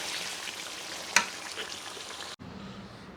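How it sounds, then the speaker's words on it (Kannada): Food sizzles and fries steadily in a pan during temple Ashadha cooking, a continuous hiss with one sharp clatter midway before it abruptly cuts to a quieter, duller background. "ಸ್ವಲ್ಪ ಫ್ರೈ ಆಗಬೇಕಿದೆ"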